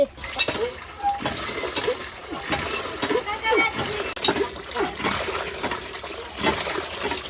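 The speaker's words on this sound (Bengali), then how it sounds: "এই যে এখন আমরা মুরগিগুলো ভালো করে ধুয়ে নিব।" Raw chicken is washed in water, with repeated splashing and sloshing close by as a person talks.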